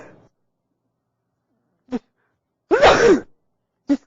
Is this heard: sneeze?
yes